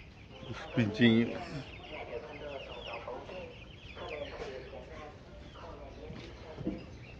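Chickens and chicks clucking at breakfast time, a busy mix of clucks and peeps with a louder burst early on, while a person talks over the flock.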